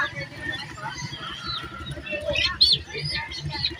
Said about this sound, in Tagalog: Mga kalapatin, dami, ganda oh.